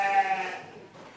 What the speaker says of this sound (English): Our next sire that comes to ring is a goat named Reride.